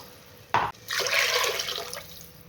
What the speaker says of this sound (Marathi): आता पाणी टाकत आहे